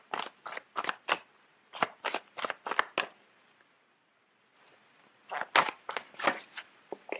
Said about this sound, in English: So let me just pull out a card.